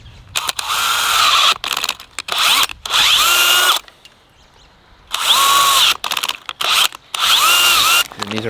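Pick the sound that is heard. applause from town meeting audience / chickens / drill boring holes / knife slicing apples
drill boring holes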